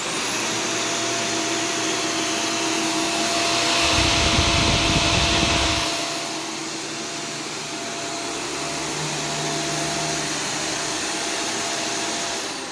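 Shark Stratos vacuum cleaner running on high carpet mode, a loud steady whining motor roar with a higher tone, rising into a deeper rumbling surge for a couple of seconds midway as the brush works the carpet, no talk.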